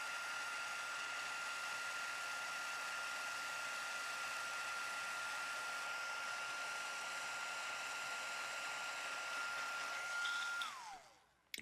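An embossing heat tool blows steadily and close by, melting embossing powder on a handmade heart-themed card, a constant whooshing hum with a faint whine that holds for about eleven seconds before it switches off and winds down.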